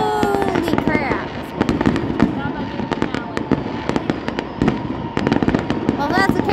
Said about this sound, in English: That's the highest fireworks this time.